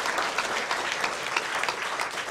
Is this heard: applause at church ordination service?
yes